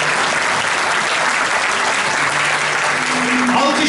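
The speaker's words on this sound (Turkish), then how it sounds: "Alkışlar durmasın." Sustained, dense applause from a concert audience at a Turkish classical music choir performance, steady and loud throughout.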